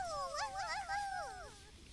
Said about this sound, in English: Look at all them barks.